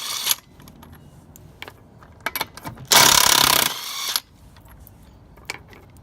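An impact wrench gives one loud, sustained burst of about a second while taking wheel nuts off a car, set among scattered metallic clinks and light clatter from handling the nuts and tools.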